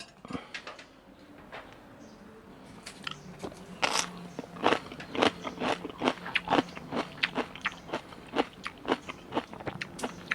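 Crunchy bites and chewing of Thai pickled vegetables, a quiet start then a dense series of sharp, crisp crunches growing louder and more rhythmic, very close to the mouth, with no talking.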